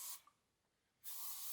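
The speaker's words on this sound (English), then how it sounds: "So we take the first one, and I just gently spray" Two short bursts of Power Hairspray Ultra Strong Nourishing Vitamin Formula sprayed gently onto hair from a distance, loud hissing blasts split by a near-silent gap.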